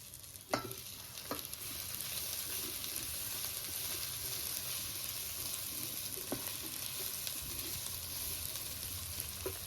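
Beans, carrot and potato pieces fry steadily in oil in an electric cooking pot for soya pulao, a continuous close sizzle with a couple of sharp stirring clicks, no voices.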